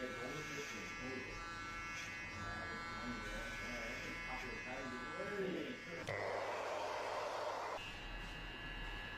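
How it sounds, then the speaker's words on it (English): An electric hair clipper buzzes steadily and closely, a continuous droning whine that grows harsher and louder midway, with people talking over it throughout. "how annoying is that fucking clipper?"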